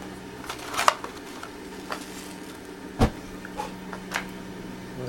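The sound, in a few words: propane gas flowing through brass joe pipe with swirl device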